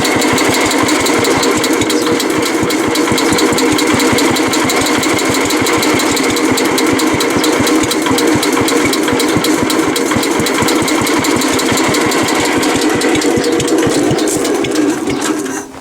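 A 1966 S-23 garden tractor engine idles steadily throughout, a close, continuous small-engine chug with a fast even pulse and metallic rattle, no talking over it.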